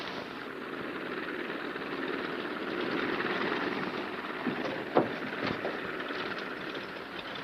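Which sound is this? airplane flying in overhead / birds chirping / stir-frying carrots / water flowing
airplane flying in overhead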